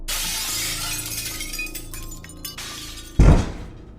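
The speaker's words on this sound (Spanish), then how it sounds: "una de las ventanas de arriba estalló" An upstairs window's glass shatters in one sudden, loud crash near the end, following a stretch of rushing, noisy background.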